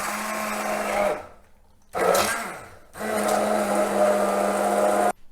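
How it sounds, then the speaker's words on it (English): An immersion mixer blends pulled pork gravy in three close, loud bursts of steady motor whine, the first and last long and the middle short, separated by brief silent pauses. "Immersion mixer."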